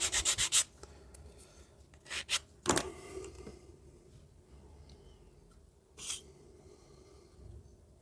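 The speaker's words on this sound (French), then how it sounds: "il faut un petit coup de lime" A hand file rasps across a small piece in a few short, sharp bursts, close and distinct against a quiet background, with gaps of near silence between strokes.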